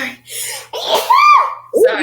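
One sharp sneeze bursts out close to the mic, between bits of casual conversation and a quick apology.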